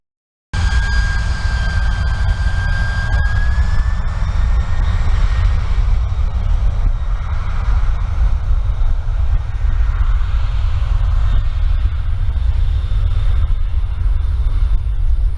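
An airplane takes off near Hanoi Airport in Noi Bai Commune, Vietnam, a loud, steady roar that comes in abruptly and holds constant throughout, with a faint rising whine early on.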